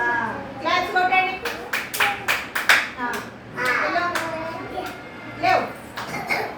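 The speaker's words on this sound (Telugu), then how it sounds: "క్లాప్స్ కొట్టండి." Children clapping their hands during a counting and shape-jumping activity, several short bursts of sharp claps in uneven groups, mixed with child chatter and an adult voice talking.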